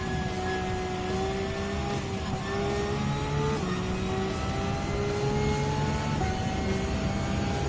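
A Porsche 911 Type 992 race car engine in Gran Turismo 7 holds a loud, steady high rev on the Mazda circuit, its pitch rising through gears with brief dips at shifts.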